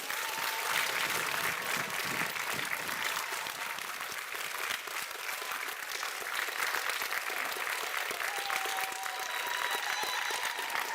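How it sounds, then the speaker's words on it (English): A large audience at a university graduation ceremony for medicine and health sciences claps in a long, dense, even round of applause that carries steadily throughout. "let's have a big round of applause for everybody."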